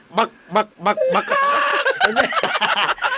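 Chicken clucking in short bursts close by, followed by a longer drawn-out fowl call, with people talking nearby.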